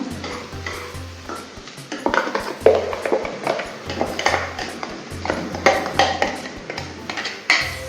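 Ground masala being stirred into vegetables frying in a pan: repeated close scraping and clacking of a utensil against the pan over a continuous sizzle, at a steady rhythm.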